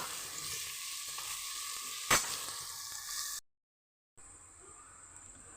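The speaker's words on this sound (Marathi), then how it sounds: "कांदा पूर्ण मऊ होऊस्तोवर आपण शिजवायचा आहे." Chopped onion with salt fries in a pan until soft, giving a steady close sizzle. A sharp clink of a utensil cuts in midway, then a brief silence, and the sizzling resumes.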